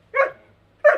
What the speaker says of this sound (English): What, the barking? That is my dog.